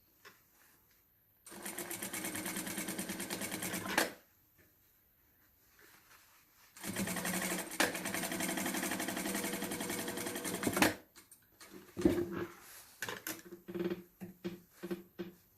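A sewing machine stitching a sleeve runs in two long steady bursts of rapid mechanical whirring, separated by a quiet pause, then gives way to scattered handling clicks and rustles near the end.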